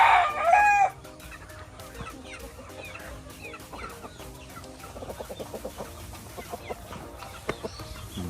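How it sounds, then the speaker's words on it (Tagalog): Backyard chickens fill the scene: a rooster's loud crow opens it, then hens cluck and call in repeated short bursts at a moderate distance over a low outdoor background. "Uy, ang manok ni tatay, dumarami."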